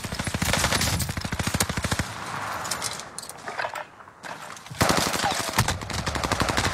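Video game gunfire rattles in fast automatic bursts, loud and close, then thins to scattered distant shots before a heavy burst resumes.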